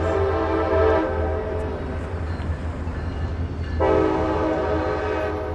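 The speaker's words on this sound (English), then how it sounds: "Trains are also pretty significant here" A loud train horn sounds in long sustained blasts at the start and again near the end, with the rumble and clatter of a passing train filling the gap between them. The setting is a rail town, Terre Haute, Indiana.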